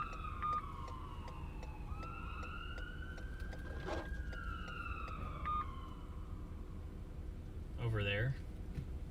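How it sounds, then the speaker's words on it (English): Several emergency vehicle sirens wail from a distance on an interstate during a historic winter storm in Charlotte, their rising and falling tones overlapping against steady background noise, with a brief voice near the end. "There's a lot of sirens on the interstate."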